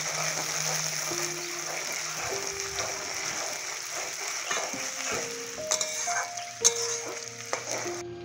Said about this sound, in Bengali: তেল গরম হয়ে গেছে, পেঁয়াজগুলো দিয়ে দেবো।